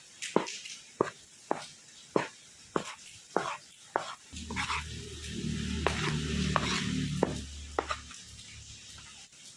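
A spoon clinks and scrapes against a cup while sugar and yeast are mixed for homemade doughnut dough, sharp rhythmic taps close by, followed by a low rumbling hum under continued clinking.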